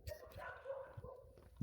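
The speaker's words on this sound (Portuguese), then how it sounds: "O cachorro está contribuindo." A dog barks a few times in short separate bursts, fairly faint and somewhat distant, mixed with someone talking nearby.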